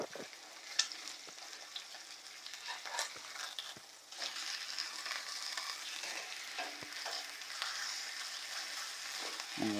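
Pork frying with onion and peppers in a pan as the fat renders, a steady close sizzle and crackle with occasional stirs and scrapes, with no talking.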